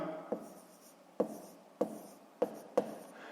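A pen writing numbers by hand on paper during a fifth-grade maths exercise, heard as five sharp taps each followed by a short scratchy stroke, quiet and close with no talking.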